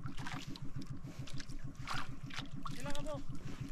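A small fishing boat's engine chugs in a steady rapid rhythm out at sea during tuna fishing, close and continuous, with water splashing and people talking over it.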